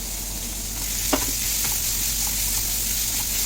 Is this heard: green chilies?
yes